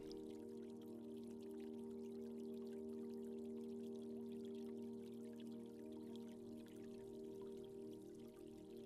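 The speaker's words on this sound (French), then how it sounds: "Il ruisselle en toi comme ce bruit d'eau relaxant que tu entends" Trickling water runs as a continuous, soft, even stream in a calm setting, with a steady hum beneath it and no voices.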